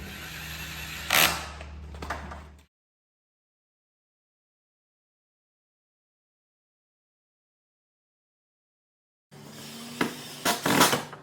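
A few sharp clicks and mechanical whirs from drilling screw holes into a camper for slide topper awnings, heard in two short stretches separated by long silence, close and moderately loud.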